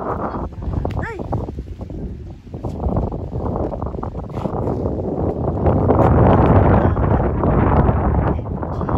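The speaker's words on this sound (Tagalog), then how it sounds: "Pwede ko mag-picnic kaso lakas naman ang hangin." Strong wind buffets the microphone in loud, rumbling gusts that swell toward the end, with faint voices underneath.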